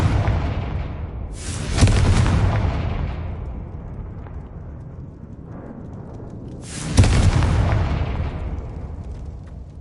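Confringo blasting-spell explosions go off in the Hogwarts Legacy video game on PS5: two loud, booming blasts a few seconds apart, each rolling off into a long rumbling decay.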